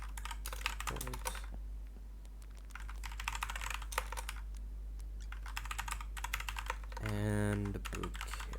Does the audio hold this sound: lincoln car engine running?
no